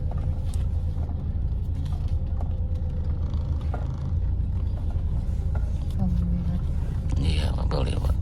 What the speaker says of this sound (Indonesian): Iya, mobil lewat.